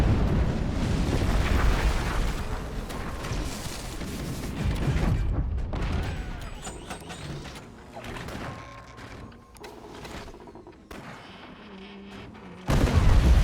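Weapons fire and explosions in the naval battle game Forts High Seas: heavy rumbling booms and blasts that come in dense waves, loud and close, then thin out before a sharp burst at the end.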